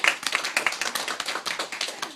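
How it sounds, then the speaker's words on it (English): Teachers in a room give a round of applause at a mediation clinic, with dense, fairly close clapping that continues steadily throughout, with no talk over it. "We're gonna have all of the teachers in the room give you a big round of applause."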